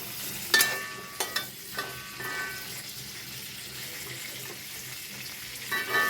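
Hot oil crackles softly in a pan on the stove, a quiet continuous sizzle broken by a few sharp pops and clinks near the start and end, with no speech.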